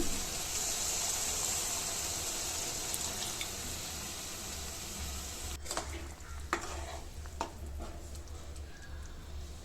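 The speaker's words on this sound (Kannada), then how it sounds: "ಈಗ ಅದೇ ಚಾರ್ಗೆ ಸ್ವಲ್ಪ ನೀರು ಹಾಕ್ಕೊಂಡು ಇದಕ್ಕೆ ಸೇರಿಸ್ಕೊಳ್ತೀನಿ" Hissing sizzle as water hits a hot pan of capsicum and green peas gravy, steady throughout, with a few sharp clinks of a utensil near the end.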